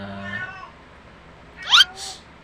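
A cat lets out a sharp, rising meow followed by a shorter one, fairly close in a quiet room after a faint murmur.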